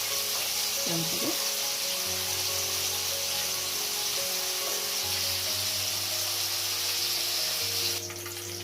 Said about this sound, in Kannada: ಇಷ್ಟು ಫ್ರೈ ಆದರೆ ಸಾಕು ಪನ್ನೀರು